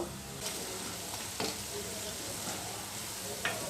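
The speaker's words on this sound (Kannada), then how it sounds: "ಈಗ ಎರಡೂ ಕಡೆ ಚೆನ್ನಾಗಿ ಫ್ರೈ ಆಗಬೇಕು" Urad dal bondas fry in hot oil, a dense, steady sizzle heard up close, broken by a few faint scraping stirs.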